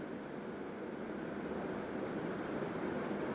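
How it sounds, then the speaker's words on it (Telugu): Semiya vermicelli simmers in water in a pan until the water evaporates, a faint, steady hiss and soft bubbling throughout, with no talking. "ఈ సేమియాలో ఉన్న వాటర్ అంతా ఆవిరైపోయే వరకు ఈ విధంగా అయితే ఉడికించుకోవాలి"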